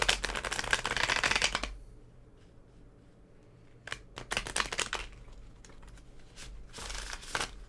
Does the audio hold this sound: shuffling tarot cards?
yes